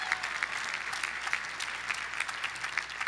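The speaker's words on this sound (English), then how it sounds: "Give your college a round of applause for doing that." A commencement crowd applauds at a 2018 graduation ceremony, sustained clapping from many people with a few sharper individual claps popping out of the even, moderately distant wash.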